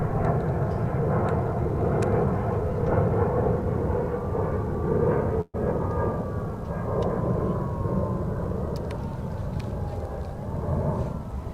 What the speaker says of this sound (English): That was a 737-800 American flight 1368 on its way to El Paso.